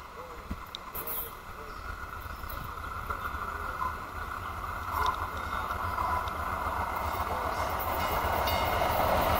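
A light rail train rumbles past at moderate distance with a steady rolling roar and faint rail clatter that builds toward the end.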